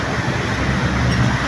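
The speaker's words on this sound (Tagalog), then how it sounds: "So, yan yung LRT sa taas." An elevated LRT light rail train rumbles past overhead above Taft Avenue in Manila, a steady, loud low roar with dense traffic noise that fills the whole moment.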